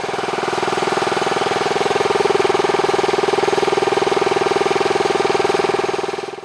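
A Daystate 110-volt, 4,500 PSI air rifle compressor runs while pressurizing an air tank, giving a loud, steady mechanical drone with a fine rapid pulsing that holds throughout without any talking.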